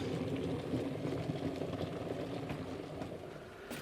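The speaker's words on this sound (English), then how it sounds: "boiling the jug to make me a cup of instant coffee" An electric jug boils water for instant coffee in a farmhouse kitchen, a steady close rumbling roar with bubbling hiss that holds constant throughout.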